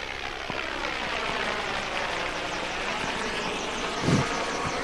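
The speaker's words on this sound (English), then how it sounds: "We have an Augusta helicopter just taking off and leaving at this time." An Agusta helicopter lifts off at an airport, its rotor and turbine making a steady, moderately distant roar that holds throughout, with a faint thump near the end.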